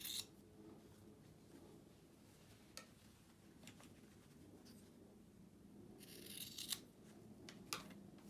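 Scissors snip the fabric corners of a homemade face mask with a few sharp, separate clicks over faint rustling, close but quiet.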